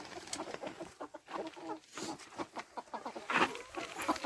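Chickens cluck and chatter in short, irregular bursts close by, with a busy mix of bird calls throughout and no talking.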